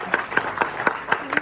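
A small audience claps in a slow, evenly spaced rhythm, about six distinct claps. The sound is moderately close and fairly quiet, with no talking over it.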